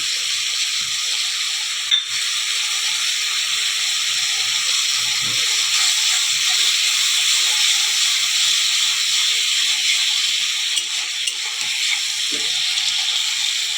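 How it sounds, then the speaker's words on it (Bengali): Washed aatop rice fries in hot spiced oil, a steady high sizzling hiss with occasional soft scraping clinks, no talking. "তেলের মশলার মধ্যে চালটা ভাজা হয়ে গেছে"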